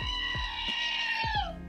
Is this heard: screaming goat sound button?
yes